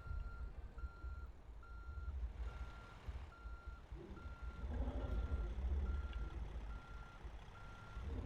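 Steady reversing beeps from a truck in American Truck Simulator, evenly spaced pulses repeating throughout over a continuous low engine rumble, with no talk.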